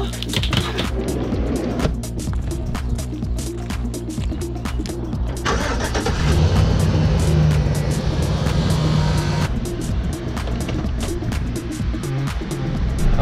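A car drives along the road on the way to a hike at Clifty Falls, a steady, moderately loud rumble with tire and road noise that swells midway and continues without speech.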